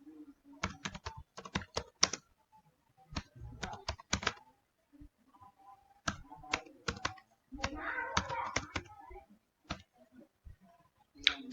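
Bursts of rapid keyboard typing, close and crisp, separated by short pauses, with no talking.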